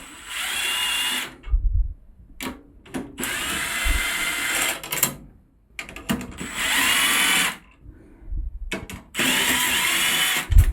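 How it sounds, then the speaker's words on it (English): A power drill whirs in repeated loud bursts of a few seconds each, separated by short pauses and small clicks. "it's going to be this drill."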